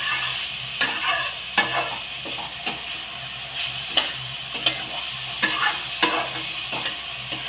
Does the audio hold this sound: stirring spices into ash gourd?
yes